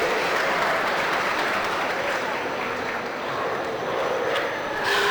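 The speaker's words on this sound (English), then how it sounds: "Let's give a round of applause for your Market Barrow exhibitors" Applause for market barrow exhibitors at a county fair swine show, a sustained crowd clapping that dips slightly midway and then swells again, filling the space.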